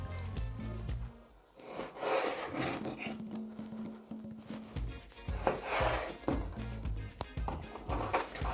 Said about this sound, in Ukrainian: І тепер нарізаю на кубики.